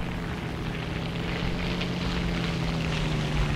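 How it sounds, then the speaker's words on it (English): Propeller plane flying nearby in the War Thunder game, a steady droning engine hum heard at moderate distance under ground-battle ambience, with no voices. "Hear a plane to my left."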